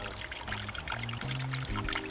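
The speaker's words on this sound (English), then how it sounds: "The slow trickle is nice and clean" Water trickles and splashes steadily from a drainage outlet at an outdoor low-impact development site, a continuous close bubbling pour with a low rumble underneath.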